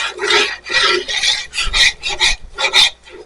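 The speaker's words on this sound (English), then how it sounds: "It's going to be a lot of scraping." A chicken and sausage gumbo roux is scraped around a cooking pot in about eight close, loud, rhythmic rasping strokes, with no talking.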